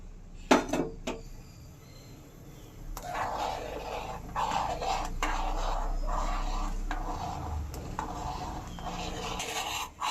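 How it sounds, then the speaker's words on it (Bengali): Diluted vinegar water is stirred into milk in a pot to curdle it for rasgulla chhana. A few metal clinks are followed by a steady, close swirling and scraping of a spoon. "এবার আস্তে আস্তে দুধে মিশিয়ে দেব জল আর ভিনিগার।"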